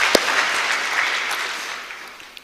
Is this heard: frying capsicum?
no